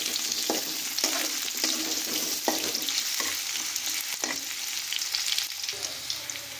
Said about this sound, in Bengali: এই আলুগুলো দিয়ে অল্প আলুটাকে খুব ভালো করে আমরা ভাজা করে নিচ্ছি